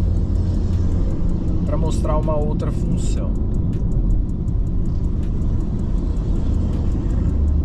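A Renault Megane E-Tech electric car accelerating, heard as a steady low cabin and road rumble that runs through the whole stretch under continuous talking.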